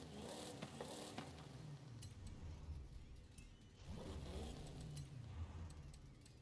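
A supercharged Dodge Charger engine in Forza Horizon 5 revs and drones steadily, with a supercharger whine and brief mechanical clicks over the engine note.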